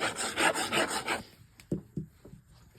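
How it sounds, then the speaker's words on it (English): Wet glue is squeezed from a bottle onto chipboard for a paper-craft mini album, with soft rubbing and squelching bursts, then a few short, close taps and squirts. "And I'm just going to add my wet glue."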